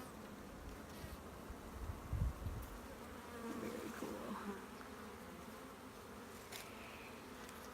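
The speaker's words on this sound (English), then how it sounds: "Look, there's a bee with a bunch of pollen on its legs." Honeybees buzz steadily around an open hive during an inspection, a low continuous drone close by with a brief louder swell, while a person speaks a couple of words.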